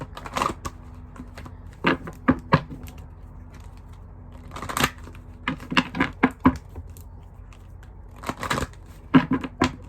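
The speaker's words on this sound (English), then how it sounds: "Alright, one more shuffle." Close, crisp riffling and tapping of tarot cards in quick bursts, with short pauses between shuffles.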